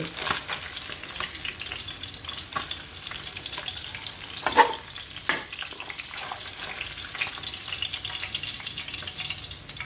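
Fish fries in a pan of hot oil with a steady close sizzle and scattered crackles and pops. A few stirring or scraping touches come through the frying.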